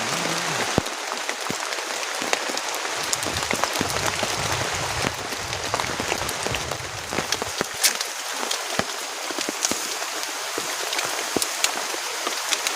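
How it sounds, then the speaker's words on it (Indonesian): Rain falling steadily on a campsite during a stormy night, a dense continuous patter with scattered sharper drops, no one speaking. "soalnya ini masih turun hujan sekarang, dingin banget."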